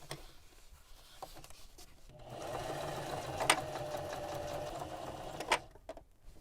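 A sewing machine stitches a 1/4 inch seam on a custom fabric heater cover, its needle running in a steady, fast mechanical whir for several seconds, close up, with brief sharp ticks as it starts and stops and no talking.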